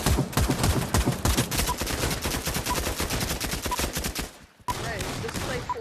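Rapid string of loud video game gunshots from a gun set to single-shot fire in a close-range map, shots crowding one after another before a brief drop, then more gunfire and clatter.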